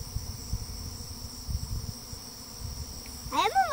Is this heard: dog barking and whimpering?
no